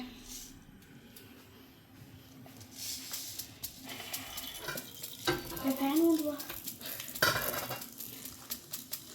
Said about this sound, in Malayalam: കുറച്ച് കടുക് ഇട്ടിട്ട് മസാല നമുക്ക് താളിച്ചെടുക്കാം